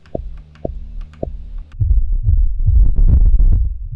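Three deep, thumping hits with a ringing resonance, spaced evenly, followed by a denser burst of low rumbling knocks, a pipe sound shaped into a kick drum sample.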